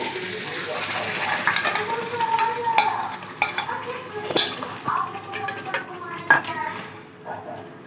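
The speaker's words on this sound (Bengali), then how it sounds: "এবার এই মেল্টেড বাটারের ওপরে আমি এই গ্রেভিটা ট্রান্সফার করে দেবো" Blended spice gravy for butter chicken poured onto melted butter in a pan, with a soft sizzle under clinks and scrapes of utensils against cookware, close and moderately loud.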